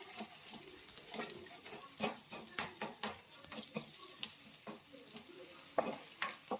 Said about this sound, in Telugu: ఉల్లిపాయలు కొంచెం అల్లం పేస్ట్ వేసుకుందాం కలగెట్టుకుందాం